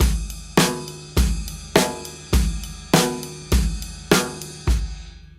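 Drum kit playing a straightforward worship-song groove: evenly spaced loud kick-and-cymbal hits about every 0.6 seconds over a steady pulse, close and alone with no talking.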